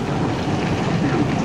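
Hail falling outdoors during a storm: a steady, dense hiss and patter of ice striking surfaces, continuous and fairly loud throughout, with no talking.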